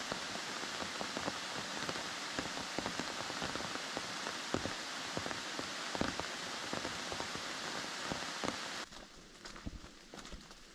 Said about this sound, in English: Yeah, it started to rain a little bit.